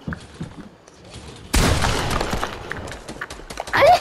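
Video-game gunfire bursts out in a loud, dense volley from about 1.5 seconds after quieter sounds, continuing steadily to the end with a sharper swell at the close.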